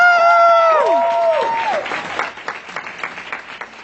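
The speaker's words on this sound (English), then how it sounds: "Give them a huge round of applause" A large audience at a business recognition event applauds loudly and continuously, the clapping thinning out toward the end, with bright tonal music sweeping over the start.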